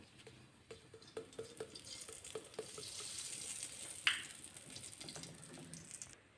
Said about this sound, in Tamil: பெருங்காயம் லைட்டாக பொரிஞ்சதும்